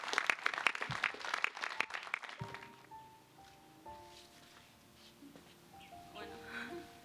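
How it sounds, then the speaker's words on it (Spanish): Wedding guests at Rancho Buena Vista Adobe in Vista, California clap in a brief burst of sharp, close claps that fade after about two seconds, giving way to soft music tones and faint voices. "Denle un aplauso a Dios por esos votos que hoy ha hecho este hombre"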